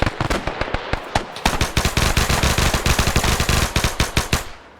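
An M1919A4 machine gun fires in a World War II video game, loud and close, in rapid, sustained bursts of sharp shots broken by brief pauses, running for several seconds before cutting off.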